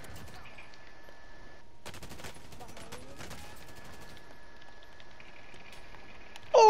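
Gunfire in Call of Duty: Modern Warfare, a burst of rapid shots and scattered single cracks over a constant game tone, moderately loud, with a brief voice at the very end.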